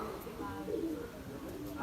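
Pigeons kept for a village pigeon-flying contest in Lakhanpur, Punjab, coo softly in low, rounded murmurs, faint and slightly distant over outdoor background noise.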